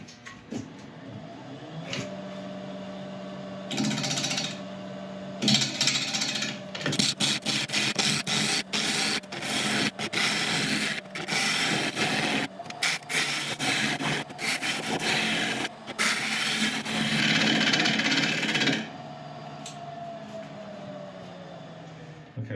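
A wood lathe spins a chestnut burl at about 750 RPM while a tool cuts the wood, a steady hum broken by a long series of scraping, chattering bursts of varying intensity.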